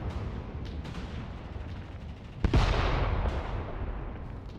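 Heavy mortar fire in the WWII game Mius Front: a sharp, close blast bursts out midway over a rumbling background of distant battle, followed by a trailing roar and a fainter thump afterward.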